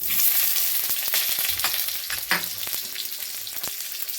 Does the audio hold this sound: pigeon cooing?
no